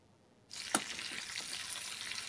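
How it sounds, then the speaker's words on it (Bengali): Dried loitta fish with onion and garlic cloves hits hot oil in a wok, silence breaking into a sudden steady sizzle with a sharp clink early on, continuing evenly and fairly faint. "এখন সব একসাথে নেড়ে চেড়ে ভেজে নিচ্ছি"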